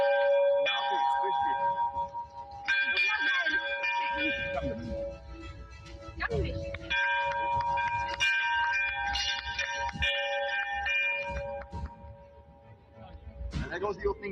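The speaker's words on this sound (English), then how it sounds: "There goes the opening bell, guys." A stock exchange opening bell rings out repeatedly in bursts of bright, sustained metallic tones during a budget-day ceremony, with a crowd and speech mixed in underneath.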